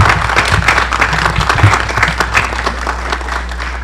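Loud, dense audience applause for a speaker at an interfaith talk on Muslim-Christian relations, many hands clapping steadily and close, with a low hum beneath.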